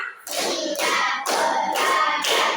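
A classroom of pupils claps in five quick bursts on a teacher's command, each burst a dense, close, fairly loud flurry of hands with short gaps between, no talking over it.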